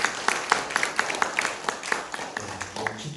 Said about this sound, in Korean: 우리 하나님께 한번 박수로 한번 영광드립니다